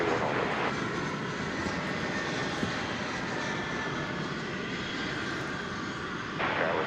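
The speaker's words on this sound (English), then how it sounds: "Here comes an E-Jet touching down from Springfield, Missouri." An American Eagle Embraer E-Jet lands at DFW Airport, a steady broad engine roar holding loud and even for several seconds, with no talk.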